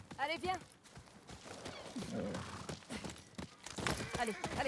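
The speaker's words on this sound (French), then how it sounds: "On va prendre le cheval pour aller plus vite." A horse gallops in the video game Ghost of Yōtei, with rhythmic hoofbeats thudding under a voice and other game sounds, moderately loud throughout.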